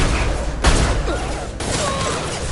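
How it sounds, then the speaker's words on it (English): Explosive shot ability firing in Mass Effect 2, two sharp broadband blasts about a second apart over a dense, busy layer of game combat noise. "Explosive shot ready."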